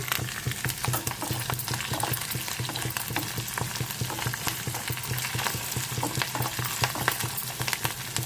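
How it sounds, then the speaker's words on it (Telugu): Tempering spices with a little grated ginger sizzle and crackle in hot oil in a pan, a dense, steady frying hiss with frequent sharp pops throughout, close and without talk. "వేగుతున్నాయి కదండి పోపులు"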